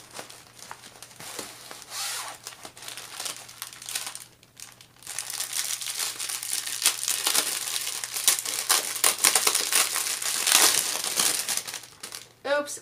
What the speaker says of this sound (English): Caution, crinkle incoming.